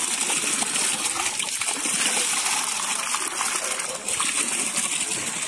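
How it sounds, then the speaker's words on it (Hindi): A mountain stream runs nonstop, its water rushing and splashing in a steady, close, full-bodied roar with no pauses. "ये कभी रुकता ही नहीं है भाई नॉन स्टॉप 24/7 आते ही रहेगा पानी"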